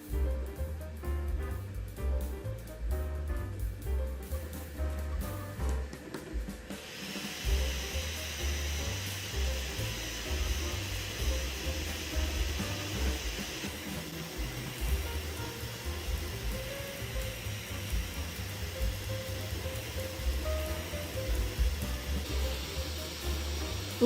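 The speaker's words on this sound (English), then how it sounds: "When it's printing at a high speed with the part cooling fan on, the sound level is around the mid-60s, which is not too loud but definitely isn't quiet" A Kingroon KP3S Pro V2 3D printer runs a Benchy print at high speed in Sunlu PLA with its part cooling fan on, giving a steady whooshing fan hiss over low motor hum and shifting stepper tones.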